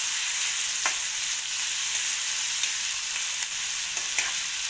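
Chopped onions sauté in a pan for sprouted moong usal, giving a steady, close hiss of frying with a few faint stirring taps spaced through it.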